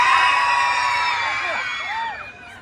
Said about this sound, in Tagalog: Wala man lang bang hiyawan dyan?